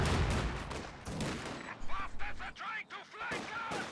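Mortar and artillery fire in the real-time strategy game Company of Heroes 2, a US mortar team shelling: heavy low booms and bursts at the start, then a few sharper blasts, with a commentator talking over the action.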